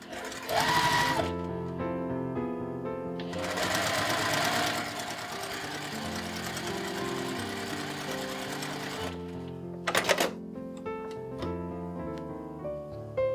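A sewing machine stitches a folded fabric loop for a quilted Christmas stocking, a quarter-inch seam, running in steady mechanical bursts with short pauses between runs.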